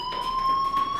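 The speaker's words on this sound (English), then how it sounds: "do you hear that fire alarm?" Electronic fire alarm in the video game Life is Strange, a steady high-pitched tone held without a break across the second, with faint pulsing overtones beneath and no talking.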